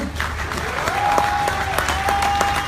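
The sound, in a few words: audience clapping hands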